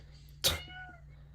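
A cat gives a single short, clear meow, close and fairly loud, over a quiet hum in a room.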